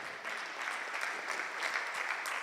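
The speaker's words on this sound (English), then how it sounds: "clap for them" Audience members at a university media and communication research conference clap steadily for a few seconds, a soft, dense patter heard from some distance.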